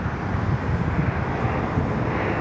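A United Boeing 777 departing Sydney Airport, heard as a loud, steady broadband jet engine roar with wind buffeting, filling the whole stretch without a break.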